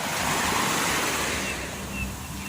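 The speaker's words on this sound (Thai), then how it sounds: "นี่ทะเลค่ะ" Sea waves washing onto a beach, a continuous rushing surf with some wind noise on the microphone, fairly loud and steady without speech.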